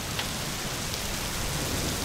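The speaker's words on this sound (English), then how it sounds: "We got a bad storm today, guys" Heavy rain from a bad storm pours steadily outdoors, where a Toyota Supra sits parked, as a dense continuous hiss at constant loudness with no voices.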